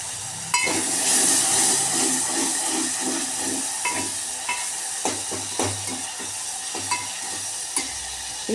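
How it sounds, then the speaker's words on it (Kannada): Tamarind juice hits a hot pan over lowered heat and sizzles with a steady, close hiss, broken by repeated stirring scrapes and light clinks. "ಈಗ ಹುಣಸೆ ರಸ ಹಾಕ್ತೇನೆ"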